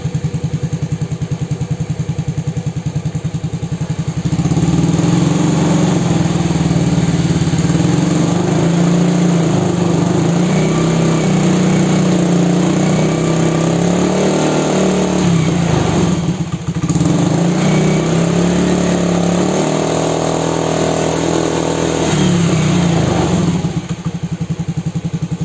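A Honda Beat scooter fitted with an exhaust silencer revs up from idle, a close, loud, steady engine drone that swells and holds, dipping briefly before climbing again.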